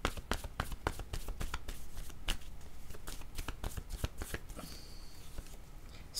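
A deck of cards is shuffled for a tarot-style reading: rapid, close riffling and tapping that runs continuously, with no speech.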